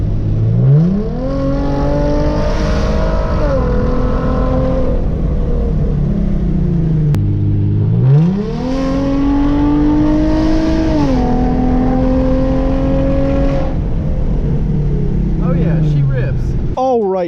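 A Hyundai Genesis Coupe accelerates hard through two full pulls, engine note climbing through the gears with shift dips between, loud and close, ending in a brief burst at the end.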